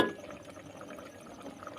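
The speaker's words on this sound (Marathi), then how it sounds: "उकळी आले" Mutton curry simmering and bubbling in a pot, a steady soft boiling hiss with faint bubbling pops throughout, close by and fairly quiet, with no talking.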